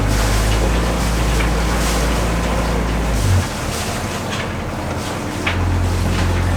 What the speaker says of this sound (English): Hold down start for 2 seconds and release, your engine will start.